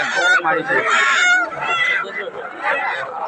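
Ducks and chickens at a crowded village poultry and goat market honk and squawk in dense overlapping calls, close and loud, with voices of people mixed in throughout.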